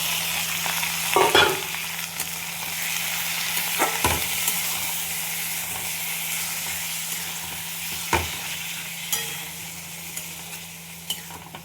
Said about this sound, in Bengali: এবার পেঁয়াজ ভাজা হয়ে গেছে, আমি মাংসটা দিয়ে দিলাম।